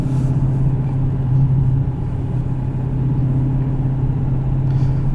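A 2019 Dodge Challenger T/A 392 driven hard gives a loud, steady, deep engine rumble with a low drone that barely changes. It is heard from inside the car with no talking.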